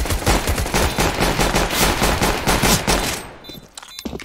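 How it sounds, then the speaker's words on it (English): Rapid, dense automatic gunfire from a CS:GO match, loud and continuous with overlapping bursts, thinning out near the end into a few scattered shots. "Don't spam your guns all willy-nilly"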